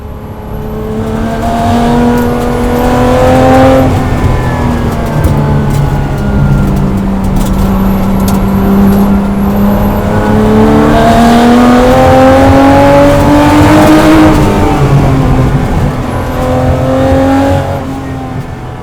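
A 1973 Porsche 911 RS replica built as a 3.8 RSR tribute drives past loudly, its engine revving and rising through the gears in long sustained pulls, close and with no talking.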